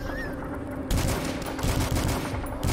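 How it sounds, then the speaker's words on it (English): Rapid automatic assault rifle fire from the first-person shooter DUSK, a dense loud burst pattern that carries through the whole stretch with repeated short shots and no talking. "Mosey on along with our automatic assault rifle."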